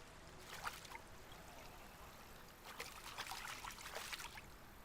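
River water in the dinosaur survival game The Isle, a faint trickling and babbling flow with a few louder gurgling splashes, heard alone without talking.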